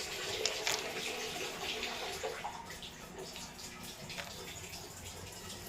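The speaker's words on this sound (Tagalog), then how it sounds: "Nagpupuno pa ako guys ng tubig" Steady rushing water pours into a container, a continuous splashing hiss that holds at an even level throughout, with no talking.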